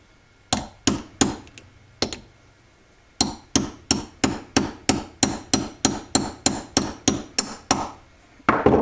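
Repeated sharp hammer strikes drive a part onto the shaft of a Honda Grom 5-speed crank assembly: a few scattered blows, a pause, then a steady run of about fifteen evenly spaced, close, loud metallic hits, with no talking.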